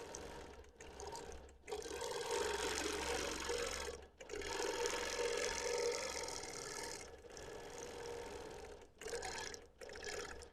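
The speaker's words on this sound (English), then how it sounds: "No, it's still skipping. It's not breaking, but I'm getting enough skip stitches that I can't leave the quilting that way." A sewing machine quilting through a scrappy vintage quilt top with thick seams, skipping stitches, runs in long, steady loud bursts separated by brief pauses, with no talking.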